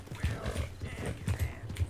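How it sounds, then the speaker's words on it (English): Horse hooves clip-clopping at a steady walking rhythm in Red Dead Redemption II, close and moderately loud, with faint game ambience and a brief snort. "That's a fine horse you got there."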